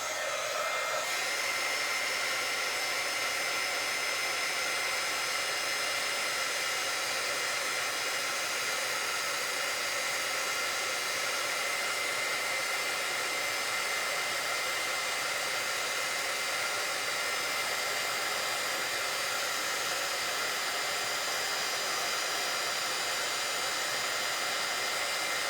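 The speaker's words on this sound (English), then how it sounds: "let's do a quick heat embossing on this." A heat gun blows hot air steadily over embossing powder on a paper craft project, a continuous loud whooshing roar that holds level for the whole stretch with no talk.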